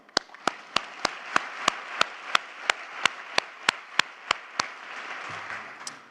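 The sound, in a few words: audience applause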